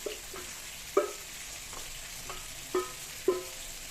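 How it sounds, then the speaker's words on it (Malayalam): Mackerel curry simmering in a pot as fish pieces are gently stirred in, a faint steady bubbling broken by a few soft knocks and scrapes of the spoon. "അങ്ങനെ മീൻ കറി ഒന്ന് തിളച്ച് വന്നിരിക്കുകയാണ്."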